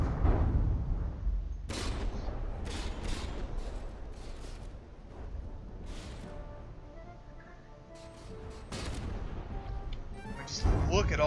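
A barrage of high-explosive gunfire in the naval combat game From the Depths, with repeated sharp blasts and crashes of hull damage at irregular intervals under steady rumbling, while a commentator speaks over the action.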